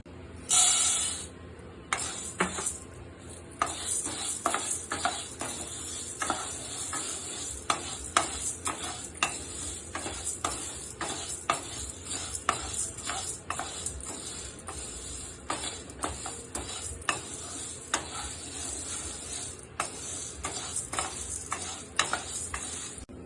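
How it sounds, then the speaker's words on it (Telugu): Chana dal frying in a pan for sambar powder, a soft continuous sizzle with frequent clicks and scrapes of stirring, close and steady throughout with no voices. "ముందుగా శనగపప్పు ఫ్రై చేసి తీసేయాలి"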